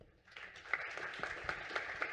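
An audience at an oil and gas taxation seminar applauds a speaker as she is introduced, a soft, steady patter of many hands clapping at a distance for about two seconds with no voices over it.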